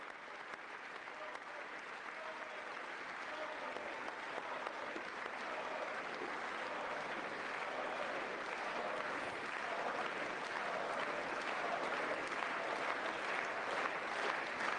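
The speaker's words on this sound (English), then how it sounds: "You can give her a hand clap too" Sustained audience applause at a State of the Union address, a dense steady roar of clapping from a large crowd that swells slightly over fifteen seconds.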